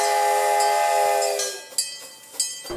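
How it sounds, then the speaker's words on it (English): A small park railroad train in Los Gatos sounds a long steady whistle up close, which fades into rolling wheel clatter with a couple of sharp clanks. "they love the train."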